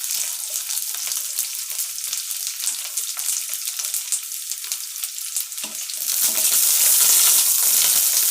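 Spring onion sizzles and crackles in hot oil in a pan, a steady frying hiss with stirring scrapes that grows louder and fuller toward the end, with no talk.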